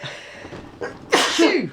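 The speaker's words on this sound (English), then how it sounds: "I'm going to sneeze any minute now." A woman's sneeze building from breathy inhales into a loud, close burst of noisy air, ending in a brief voiced tail, all within under two seconds.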